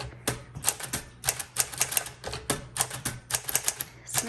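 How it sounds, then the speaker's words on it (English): Keys clack on a 1946 Smith Corona Sterling Speedline manual typewriter, a brisk irregular run of sharp metallic strikes close to the microphone, with no voices. "And then let's go ahead and do our typing"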